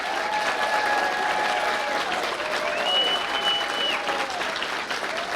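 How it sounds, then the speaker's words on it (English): A literary-event audience at a Kentucky Great Writers Series gathering gives a full round of applause, steady dense clapping throughout with faint whistles or cheers riding on top. "would you all please show how much you love him with another round of applause?"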